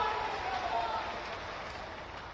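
A crowd at a public event in Gwalior applauds to welcome Narendra Singh Tomar, a steady, fairly faint wash of clapping heard from a distance.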